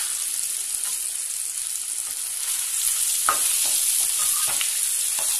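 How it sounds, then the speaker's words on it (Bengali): Chicken pieces fry briefly in a pan for chilli chicken, giving a steady, bright sizzle close up. Soft clicks of stirring sound now and then under the crackle, and no one speaks. "সামান্য একটু ভেজে নিয়ে নামিয়ে দিতে হবে।"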